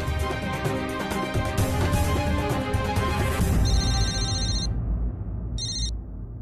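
Phone ringtone on an outgoing call, two bursts of a bright repeating ring, the second brief, first heard over dense background music that cuts out, leaving the last ring nearly alone.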